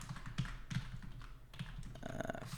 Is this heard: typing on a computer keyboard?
yes